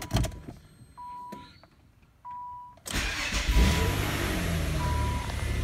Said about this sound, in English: Okay, I'm gonna start the car.